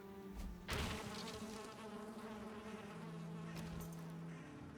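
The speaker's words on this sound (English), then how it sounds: "There's something in here. Bees!" Bees buzzing in Animal Crossing: New Horizons make a steady, droning insect hum with a sharp, louder burst near the start, sounding close and continuous with no talk.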